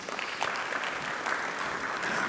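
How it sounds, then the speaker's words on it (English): An audience at the Nigeria high-level roadshow for IATF2021 gives a round of applause, a soft, continuous patter of many hands heard from a distance for a couple of seconds. "Please, a round of applause."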